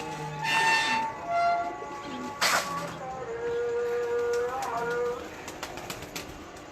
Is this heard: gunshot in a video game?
no